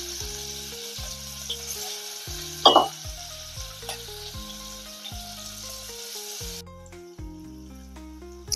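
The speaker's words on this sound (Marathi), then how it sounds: "आता आपण आमटीला फोडणी देऊया." Phodni tempering for Maharashtrian dal amti sizzles in hot oil with green chilli and spices, a steady bright hiss with a sharper crackling burst near the middle, heard under soft background music.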